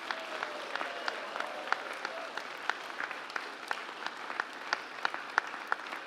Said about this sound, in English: Proper cheers and clapping.